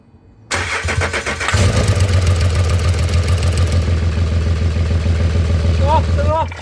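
A Range Rover with a large oil leak, one that has spat gear oil, cranks and fires up, then settles into a loud, steady, rumbling idle close by for several seconds.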